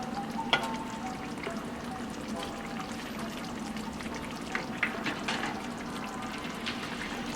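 Brown stew salmon bites simmer in a pan with a steady, close bubbling and sizzling hiss that carries on evenly, with a few soft pops and no voices.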